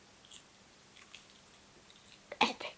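Someone bites into crispy air-fried salt and chilli chicken wings, giving faint small crackles and then a sharp, louder crunch of several quick bites near the end, close to the ear.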